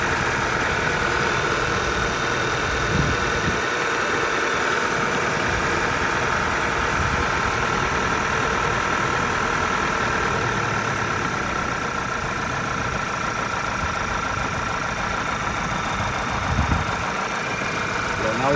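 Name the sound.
Audi A5 2.0 TFSI engine idling after cold start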